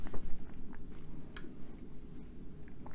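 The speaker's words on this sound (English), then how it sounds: "you guys are gonna hear me chew." Close, moist chewing of a watermelon gummy candy, soft squishy bites repeating irregularly, no talking.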